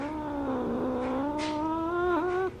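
A domestic cat that dislikes other cats yowls in a long, drawn-out angry caterwaul, a sustained wavering cry that rises and dips near the end, close and loud for about two and a half seconds.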